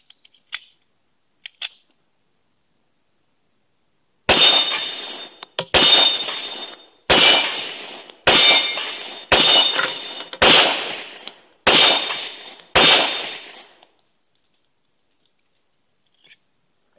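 Smith & Wesson TA Series E 1911 pistol fired until the magazine runs dry: eight loud, sharp gunshots spaced about a second apart, each with a short ringing decay, after a couple of faint clicks and followed by quiet.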